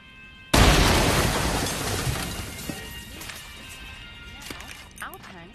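A sudden loud blast from an explosive block detonated against a beach obstacle in a war video game, followed by a long rumbling decay with scattered debris thuds fading out.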